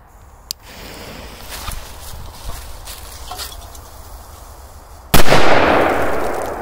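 A short fizzing fuse is followed by a sharp, loud firecracker bang, with crackling debris and a ringing tail.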